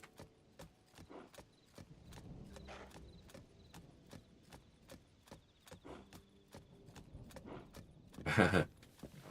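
A horse in Zelda: Tears of the Kingdom trots with crisp, evenly spaced hoof clip-clops. A short whinny-like burst comes near the end.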